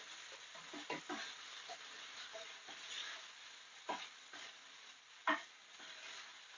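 Steady sizzling of chicken frying in a pan with garlic and shallot, with occasional louder crackles and pops and some stirring, close by.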